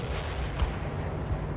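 Artillery fire in World in Conflict, heavy continuous low rumbling booms with a couple of thumping impacts layered over a dense battlefield roar, no talking.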